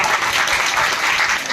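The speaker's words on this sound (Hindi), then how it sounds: "ताली बजाइए, बहुत अच्छा सवाल।" Steady audience applause fills the whole moment, dense and even, from a classroom group clapping together after a good answer, with no talking over it.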